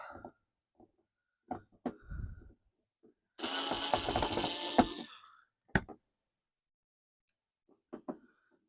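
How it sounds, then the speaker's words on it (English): Screws are taken out of a claw toy with a screwdriver, giving scattered clicks and handling knocks. A dense, loud stretch of rapid ratcheting or whirring runs for about two seconds in the middle, with quiet gaps between the other sounds. "to get access into that, I have to take these screws out."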